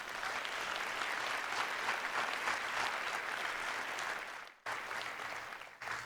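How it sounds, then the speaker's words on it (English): Sustained applause from an audience at a school district board meeting, steady and dense for about five seconds, with a brief drop near the end before clapping resumes. "Please give them a round of applause."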